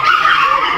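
A dog angry at a cat gives a loud, strained bark or yelp close by, a single drawn-out outburst, near an outlet mall parking area in Japan.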